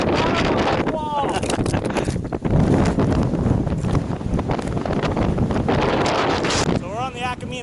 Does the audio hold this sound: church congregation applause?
no